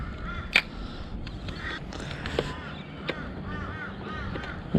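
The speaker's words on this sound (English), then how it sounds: "Been following this bird. It's been hanging on these chains." A crow perched on chains beside floodwater gives several harsh caws at irregular intervals, fairly close, over a low background rumble of outdoor ambience.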